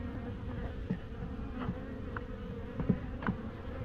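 A steady, low droning hum of a collected swarm of bees buzzing in a hive box throughout, with occasional faint clicks and taps over it.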